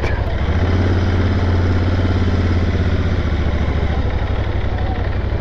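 A Royal Enfield 650 twin motorcycle idles close by with a steady, even low thump and a faint mechanical clatter, running alone without talk.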